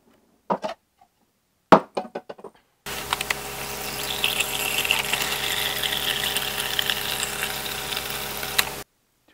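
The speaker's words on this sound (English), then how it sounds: "now I'm going to add 3 cups of water" Water pours steadily into a pot holding uncooked rice, a continuous splashing rush lasting several seconds after a few brief knocks and clatters.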